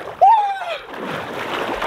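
Someone plunges into a cold alpine lake near a waterfall. A loud, close splash is followed by churning water, and a voice cries out at the moment of entry.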